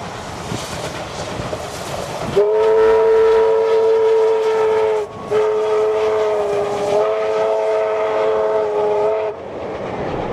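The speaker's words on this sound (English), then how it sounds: "The train is seen passing over Menangle Bridge." The R766 picnic train, hauled by diesel locomotive 4903, rumbles loudly across Menangle Bridge with a sustained horn blast. The horn breaks off briefly and then sounds again before fading back into the rolling noise of the train.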